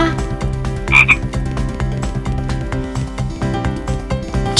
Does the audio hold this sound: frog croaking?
yes